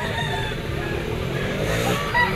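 Roosters crow loudly and close at a chicken market in Lipa, Batangas, their drawn-out calls running continuously over a busy background hum.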